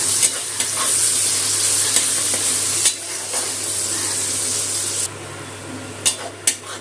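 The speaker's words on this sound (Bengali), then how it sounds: "পেঁয়াজ কুচি দিচ্ছি। পেঁয়াজটা ভেজে নেব।" Chopped onions hit hot oil in a pan and fry with a loud, close, steady sizzle, broken by a few spoon scrapes and taps, and the hiss drops off near the end.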